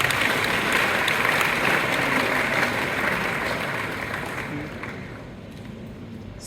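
An audience at an entrepreneurship talk claps for itself in a sustained, even burst of applause that fades gradually over the last couple of seconds.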